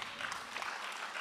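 Brief, faint applause from a conference audience, an even patter of many hands clapping at a distance with no voices on top.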